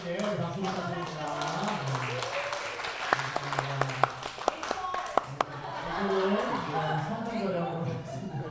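A church congregation at a Thanksgiving Sunday service applauds, with steady clapping and several sharp, distinct claps standing out. Voices and singing carry on over it throughout.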